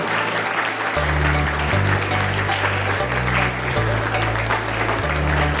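Applause at a school celebration for International Workers' Day, a hall full of people clapping steadily and loudly throughout, with a low sustained hum beneath the clapping.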